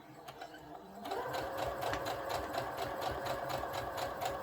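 A sewing machine stitches satin fabric for a satin-lined bonnet, its needle starting about a second in and then running in a fast, steady mechanical chatter, close and clear with no talking.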